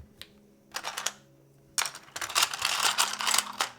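A computer keyboard set up to sound loud, typed in short bursts of crisp, sharp clicks with a pause, then a denser, steadier run of rapid keystrokes; close and clear, with no voices.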